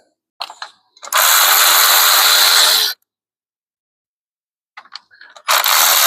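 Ratchet loosening bolts during a Jeep Patriot CVT service, two bursts of rapid, loud mechanical clicking close up, each led by a few short clicks and separated by silence.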